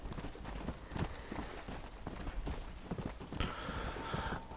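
Horse hooves pounding in Red Dead Redemption Undead Nightmare, a fast, continuous galloping clatter close by over steady ambient game noise, with no talk.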